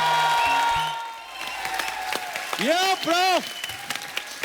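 A studio audience at a comedy show applauds guests as they are welcomed, the clapping scattered and modest over music at the start, then someone speaks over it.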